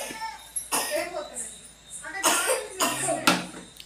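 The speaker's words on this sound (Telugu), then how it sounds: "దగ్గుతున్నాడు కదా" A child coughs in several hoarse bursts in a village home, with adults and someone talking in between and around the coughs, close to the listener.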